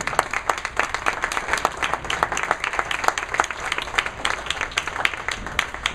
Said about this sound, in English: A thoroughly well-deserved round of applause for Weier, but will it be enough?